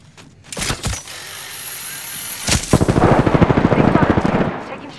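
Gunfire in the Apex Legends video game: a few sharp shots early, then a loud rapid stream of automatic fire that rattles on steadily to the end, close and dominant.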